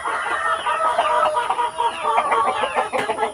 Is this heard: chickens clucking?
yes